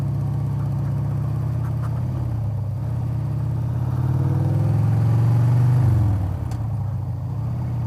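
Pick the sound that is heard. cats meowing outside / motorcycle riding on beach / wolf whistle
motorcycle riding on beach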